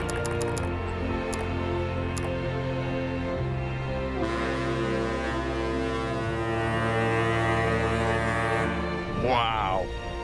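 The Bark Europa, a massive tall ship leaving port under engine power, fills the clip with a deep, sustained tonal drone like a ship's horn that holds for several seconds under a busy background.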